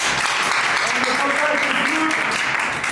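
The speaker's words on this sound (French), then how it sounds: "ça mérite quand même des applaudissements" An audience breaks into dense, continuous applause, loud and even throughout, with faint voices mixed into the clapping.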